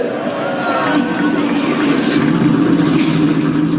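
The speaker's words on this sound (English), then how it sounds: "the engines have been fired up here at Bristol" Race car engines fire up and rev together at Bristol for the start of a Mountain Dew KickStart Cup Series round, a loud sustained roar with a crowd behind and commentary over it.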